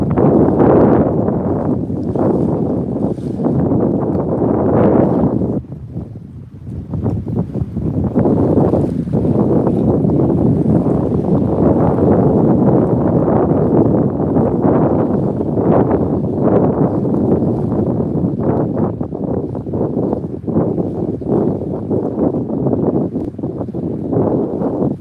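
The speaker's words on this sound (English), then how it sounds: "Yeah, it is pretty windy today." Strong coastal wind buffets the microphone on a saltwater fishing trip at Bayside, Texas, a loud continuous roar with gusting swells and one brief lull, no talking.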